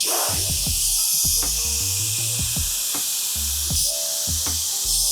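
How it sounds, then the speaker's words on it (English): Steady, loud hiss of a spray gun spraying lacquer thinner runs continuously, with faint low clicks and thumps underneath. "I just like to get a good spray going, check my fan."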